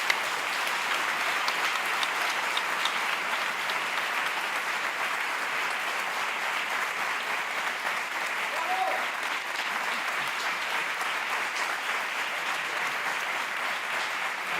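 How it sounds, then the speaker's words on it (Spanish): An audience applauding steadily, dense sustained clapping that holds evenly throughout at a moderate distance, with a brief murmur of voices mixed in. "Este aplauso es para vosotros."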